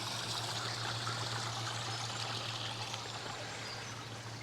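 Water runs steadily down a garden pond cascade, a continuous close rushing trickle with an even hiss and a low steady hum underneath, and no voices.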